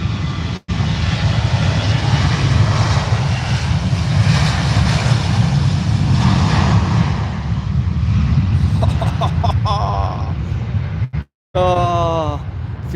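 Jet2 airliner engines roar loudly and steadily at Manchester Airport as the aircraft passes close by, a broad sustained rumble with a brief whine near the end.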